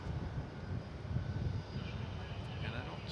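A UPS Airbus A300 waits at DFW Airport, its engines a steady low rumbling roar with a broad hiss, heard from a distance under faint radio chatter.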